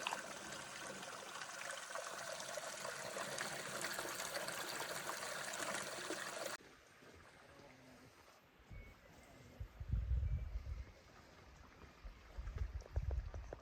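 A small mountain stream on the trail up Gunung Slamet rushes steadily with a broad hiss of flowing water, then drops away abruptly to quieter surroundings with faint thumps and movement.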